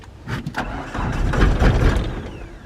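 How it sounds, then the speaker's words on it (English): A Mitsubishi Eclipse GSX engine is revved once with the gas pedal, a close, loud rumbling swell that builds and fades over a couple of seconds. "I'm gonna hit the gas pedal one time."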